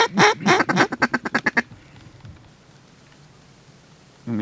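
Mallard ducks over a corn field quack in a quick, loud, close run of about a dozen calls that taper off into quiet outdoor ambience with light rustling.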